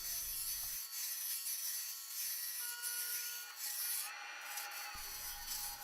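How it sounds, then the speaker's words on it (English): A carbide cutter shaping a small bowl of ultra-thin wood laminate on a lathe gives a soft, steady rasping scrape that runs almost unbroken, fairly quiet and close with no voices. "After turning the assembly round, I start to shape the bowl by cutting into the neck down sections of the bowl"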